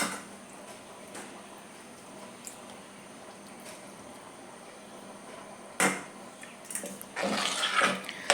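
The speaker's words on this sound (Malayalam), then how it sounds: "പുളി നന്നായിട്ട് പിഴിഞ്ഞ് അതിൻ്റെ വെള്ളം ഒഴിച്ചു കൊടുക്കാം" Strained tamarind water poured into an eggplant (brinjal) curry: mostly quiet kitchen rustles and faint clicks, then a brief sharp splash and a louder gushing pour toward the end.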